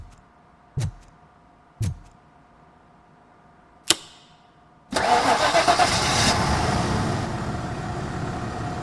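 A car engine in the RoboCop Rogue City video game, repaired after a disconnected coil, cranks and catches into a loud, steady running roar after a few sharp clicks and thumps, then settles into a slightly quieter idle, with no talk.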